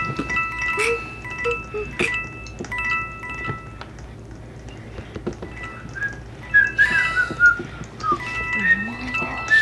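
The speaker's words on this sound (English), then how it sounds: "He's whistling." Someone whistles a series of short, sliding notes in the game Murder Mystery 2, with scattered clicks and other voices in the background.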